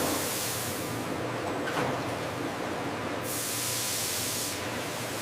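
Cooling water sprays onto hot ketchup bottles on a factory line, a dense continuous hiss that stays loud and steady throughout.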